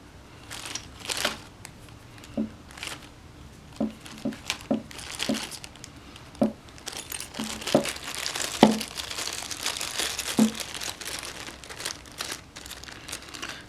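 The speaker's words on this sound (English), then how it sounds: "I'm gonna put all my spare parts and these old Glock sights back into this plastic bag for safekeeping." Spare Glock parts and old sights go into a plastic bag, which gives close, irregular crinkles and rustles with small clicking taps of parts spread across the clip.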